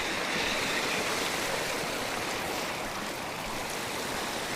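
Steady, loud rush of flowing stream water, a continuous broadband wash with no breaks, heard alone without voices.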